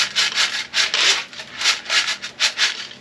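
Dried corn kernels are rubbed by hand in a basket to shed fine cob pieces, making rhythmic rustling scrapes in repeated close bursts about every third of a second, with no talk.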